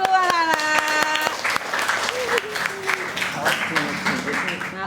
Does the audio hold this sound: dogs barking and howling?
no